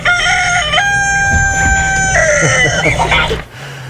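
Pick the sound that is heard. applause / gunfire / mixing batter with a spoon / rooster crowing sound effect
rooster crowing sound effect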